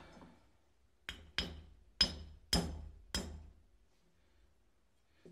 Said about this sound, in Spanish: sacar el perno por la parte de abajo, darle unos golpecitos pequeños para que salga